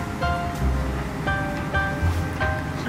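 Green chili paste and cumin frying in hot oil for bhindi masala give a steady, close sizzling hiss that runs the whole time, with faint tonal music behind it.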